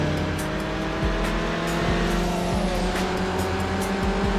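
A Dodge Neon races in Need for Speed Underground on PS2, its engine droning steadily at high revs with repeated sharp gear-shift dips and rising pitch sweeps, under a constant game soundtrack and no talk.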